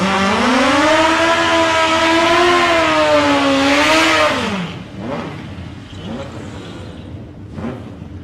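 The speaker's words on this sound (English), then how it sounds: "Both bikes coming up to the line now." A drag racing motorcycle revs hard at the start line at South Coast Raceway. A loud, wailing engine note swells and dips for several seconds, then cuts to quieter, scattered engine sounds.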